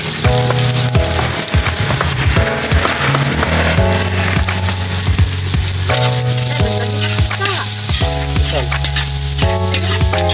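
Garlic and onion sizzling steadily in a pan, loud and continuous, with a stirring utensil scraping now and then as music plays over it.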